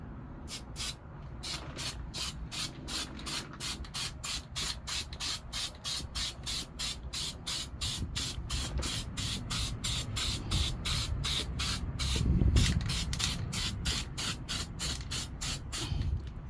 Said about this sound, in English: I still want to spray the primer on everything.